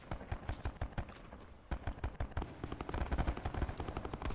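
Rapid bursts of gunfire from the video game Blackout Squads, sharp repeated shots in quick clusters, fairly loud and continuous across the few seconds with no talk.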